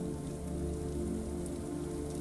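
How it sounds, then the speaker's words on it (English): Steady soft rain pattering on garden plants, a continuous even hiss of drops close by with no voices. "the first big, cold drops of rain begin to patter upon the plants of the garden in a soft staccato"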